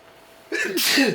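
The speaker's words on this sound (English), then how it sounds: "Bless you." A single loud sneeze, close to the microphone, in a casual podcast conversation, with a short inhale leading into a sharp burst.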